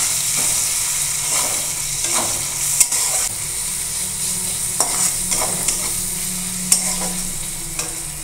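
Onions fry and get stirred in a pan with a constant close sizzle, punctuated by scraping strokes and occasional utensil clinks.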